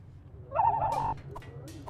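A single wavering owl-like hoot sounds in the video game Lucid Blocks, a short warbling call followed by a couple of soft clicks over a low steady hum.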